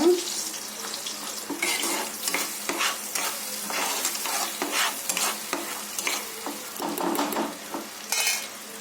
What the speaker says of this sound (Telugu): ఇందులో ఒక పావు టీ స్పూన్ అల్లం వెల్లుల్లి పేస్ట్, వేసుకొని కలుపుకుందాము